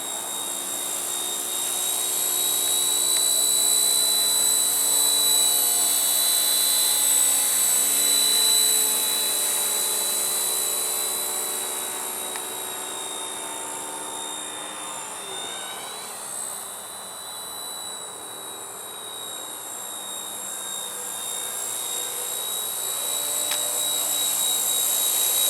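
An RTR Hobby Jet Ranger RC helicopter flies nearby, a steady high-pitched electric whine with a constant tonal drone and soft rotor wash that dips slightly midway and then swells back, continuous for about twenty-five seconds.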